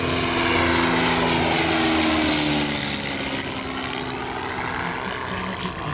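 A De Havilland DH-84 vintage propeller biplane engine drones loudly and steadily at an airshow, its rumbling tone holding throughout and easing slightly partway, with faint voices in the background.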